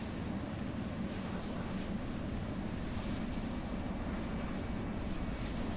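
Constant broadband roar and rush of an F-18 jet in the Roblox game Aeronautica, a steady windy engine wash with no breaks or changes throughout.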